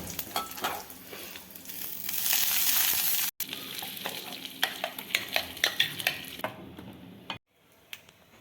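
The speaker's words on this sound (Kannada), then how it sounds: "ಒಗ್ಗರಣೆಗೆ ಒಂದೆರಡು ಸ್ಪೂನ್ ಎಣ್ಣೆ ಹಾಕಿಟ್ಕೊಂಡು ಅದಕ್ಕೆ ಜೀರಿಗೆ ಸಾಸಿವೆ ಕಡಲೆಬೇಳೆ ಬೇಳೆ ಒಗ್ಗರಣೆ ಹಾಕೋಬೇಕು" Cumin, mustard seeds and chana dal tempered in a couple of spoons of hot oil, crackling and spattering close by with stirring scrapes and pops, ending abruptly near the close.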